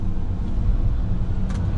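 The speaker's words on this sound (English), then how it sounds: "rev your truck up" A concrete mixer truck's engine running with a deep, steady low rumble, loud and close, with a brief hiss near the end.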